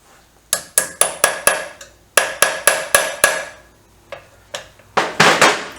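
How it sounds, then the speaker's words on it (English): A hammer strikes a BSA trail bike engine that has its spark plugs removed, giving a brisk run of about fifteen sharp, ringing metallic clanks in quick groups with brief pauses, loud and close. "Get a hammer."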